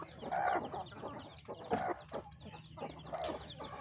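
Mother hen clucking softly near her newly hatched day-old chicks on a poultry farm, the low clucks repeating in short bursts with faint high peeping of chicks around them, close by and moderately quiet.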